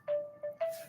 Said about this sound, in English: now my phone goes off